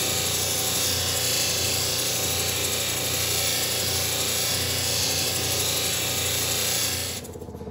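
A handheld power tool whirs steadily against a stone inlay, a continuous close grinding-polishing drone with slight rubbing variation that cuts off abruptly near the end, no voices.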